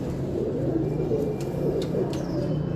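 Pigeons coo in a low, continuous murmur at a kabootar bazi loft in Kasur, a steady layered burble with a few faint higher chirps above it, and no talking.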